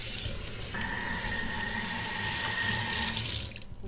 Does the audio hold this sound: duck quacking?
no